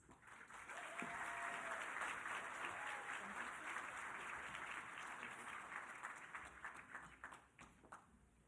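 Sustained applause from a large audience at a 2024 annual celebration gala as the college president and vice president come to the stage, a full steady roar of clapping that thins and tapers near the end.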